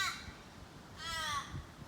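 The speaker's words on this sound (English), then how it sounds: "Quiet, you noisy bird." A crow lets out two raspy caws, the second longer and louder, at a moderate distance over faint outdoor background noise.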